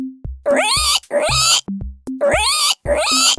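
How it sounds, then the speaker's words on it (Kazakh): A domestic pig gives a series of about five loud, high, drawn-out squeals in quick succession, each separated by a short gap, with no talking. "Бұл шошқа."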